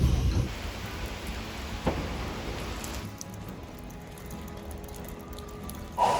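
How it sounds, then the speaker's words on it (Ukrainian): Rain falls steadily during a wet summer in Lviv, a broad hiss of drops on surfaces that holds fairly loud throughout, with a brief thump near the start and a duller stretch in the second half. "Забрав Кароліну, але ми попали під дощ."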